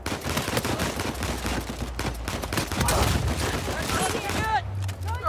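Rapid gunfire crackles through an Uncharted 4 online multiplayer match set in Scotland, dense overlapping bursts close by with clattering game effects throughout and a low hum near the end.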